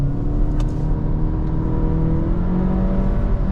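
A Honda Civic 1.5 turbo, 182 hp with a CVT, accelerates hard at speed, engine tone rising in stepped surges like simulated gear shifts over a dense road rumble, no voices.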